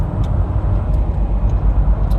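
A car rolls through traffic with a steady, close, low engine and road rumble under a constant rushing drone, and a few faint ticks sit on top.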